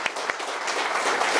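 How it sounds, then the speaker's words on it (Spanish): Conference audience applauding to welcome a speaker, a dense, steady wash of many hands clapping that carries on without a break, with faint voices underneath. "tributemos un fuerte aplauso por su presencia aquí a Rubén."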